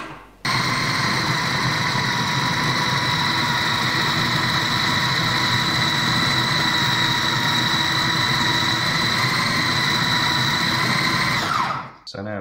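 A food processor runs for about eleven seconds, a loud, steady, close whir with a buzzing rattle. It switches on and stops abruptly.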